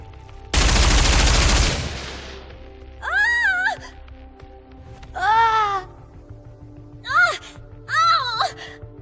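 Experimental suppression rounds fired in the video game Nikke: a loud, dense burst of gunfire that decays over about a second, then several voiced cries and groans follow.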